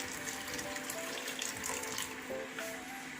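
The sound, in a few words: hot water being poured into a pot for squash soup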